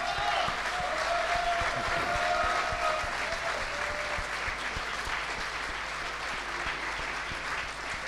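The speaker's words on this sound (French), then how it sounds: "on peut applaudir une dernière fois, en tout cas, nos runners" Audience applause for the runners at a finale event, a steady crowd clapping with a few voices heard briefly over it early on, holding level and fading slightly toward the end.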